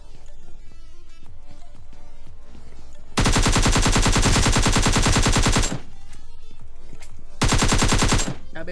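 Automatic gunfire in PUBG Lite comes as two loud, dense bursts of rapid shots, one lasting a few seconds and a shorter one near the end, with quieter game sounds between them.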